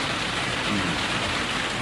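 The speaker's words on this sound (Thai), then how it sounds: "คุณโยมได้ยินเสียง ฝนตก" Heavy rain pours steadily and close by, a dense, unbroken hiss of drops with no pauses.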